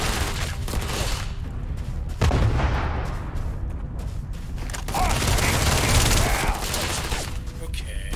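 Dense sci-fi gunfire and explosive blasts from the Starfield video game rumble loudly and almost continuously, with heavy booms and crackling bursts layered together.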